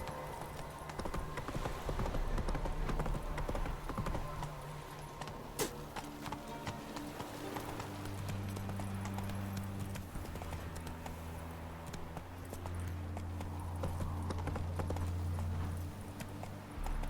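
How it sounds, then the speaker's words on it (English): A horse gallops with steady, rhythmic clip-clop hoofbeats in the Witcher 3 video game, fairly close and continuous, with low game ambience underneath. "Giddy up."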